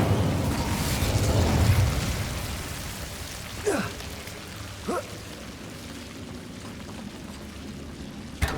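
Fire from an Incendio spell in Hogwarts Legacy, a rushing crackle at the start that fades into a soft rain-like hiss, marked by a few faint whooshing bursts.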